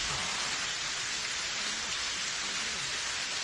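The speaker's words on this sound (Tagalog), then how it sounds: "Umuulan." Steady rain pouring down, a dense even hiss of drops on surfaces throughout, fairly faint with no other sound standing out.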